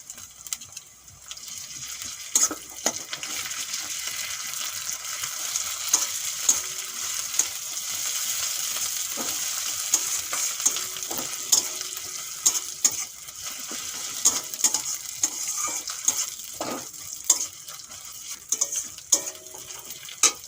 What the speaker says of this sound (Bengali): পেঁয়াজ ভালো করে ভেজে নিয়েছি এখন আদা রসুন বাটা দিয়ে দেবো